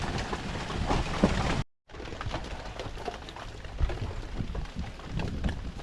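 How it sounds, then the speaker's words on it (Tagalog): Heavy rain from a storm pours onto a tomato garden in a steady, dense, rushing patter, close by and continuous apart from a brief cut to silence near the start. "Dahil medyo malakas ang ulan."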